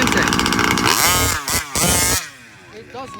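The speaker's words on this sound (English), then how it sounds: "the engine is running perfect right now" A motorcycle engine with a swapped carburetor runs and revs loudly up close, its harsh buzzing roar surging and dropping in short bursts before easing to a lower idle.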